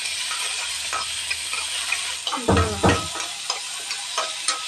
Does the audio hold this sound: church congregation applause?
no